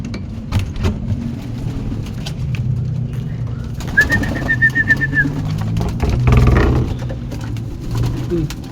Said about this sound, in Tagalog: Lulugon talaga yung kalapati natin